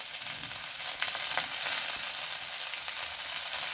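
Dill greens tossed into a pan of sautéed garlic and green chili give a steady, close sizzle with light stirring scrapes, a brief louder burst near the middle and no voices.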